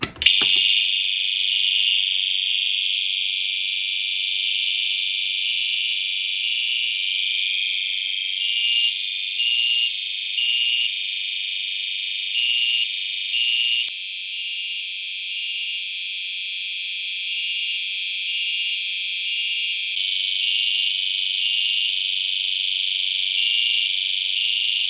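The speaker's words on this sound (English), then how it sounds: "to start off today's test, I'm going to pull the notifier pull station" Notifier fire alarm horn strobe sounding after a pull station is pulled during a system test, a loud steady high-pitched electronic tone pulsing continuously and alone for the whole stretch.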